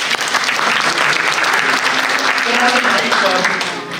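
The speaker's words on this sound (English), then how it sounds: "Can we give Dr. Taneja a big round of applause?" Dense, sustained applause fills a hall at a book cover release event, a loud, even wash of many hands clapping for a few seconds with voices mixed faintly underneath.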